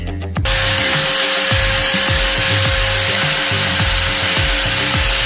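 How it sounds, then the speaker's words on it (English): An angle grinder spins up and grinds steadily against a ferrocerium fire-starter rod indoors, a loud continuous whine with rough rhythmic scraping pulses throughout. "what happens when you angle grind a ferrocerium rod"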